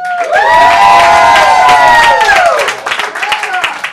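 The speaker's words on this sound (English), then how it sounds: "Cheer for him." A loud audience bursts into cheering and whooping at a comedy roast-style event, with shouts and scattered clapping swelling briefly then tapering off.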